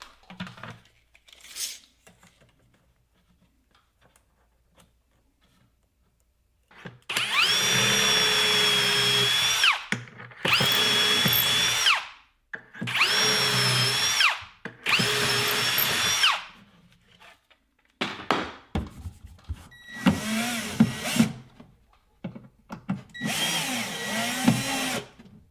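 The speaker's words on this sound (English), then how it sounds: "we are ready to drill our holes with the Kreg drawer handle hole jig." Power drill whirring in several bursts of a few seconds each, drilling drawer handle holes through a Kreg jig, separated by brief pauses and quieter handling noises, loud and close.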